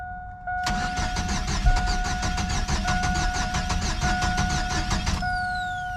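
A GMC Sonoma engine cranks steadily with a fast, even rhythmic churn for several seconds without catching, loud and close, then the starter cuts off; no one speaks over it.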